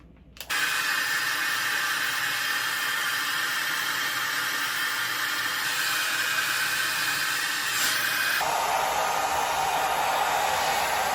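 A hair dryer blows steadily on curly type 4A hair while the edges are dried, a loud close whooshing roar lasting throughout that shifts in tone partway through, with no talking.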